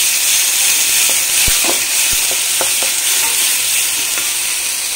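A spoon stirs frying food in hot oil while cooking potato chop, giving a steady loud sizzle with a few close scrapes and clicks against the pan and no talk.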